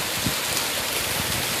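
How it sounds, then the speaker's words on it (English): Heavy rain pours down over an old homestead, a dense, steady roar of drops hitting surfaces with no pause across the short stretch, close and loud. "Oh my God, that's some rain and a half. Look at that. Look at it come down."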